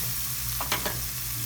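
Curry leaves and spices frying in a pan for Sri Lankan fish cutlets, a steady low sizzle with a couple of brief stirring scrapes partway through.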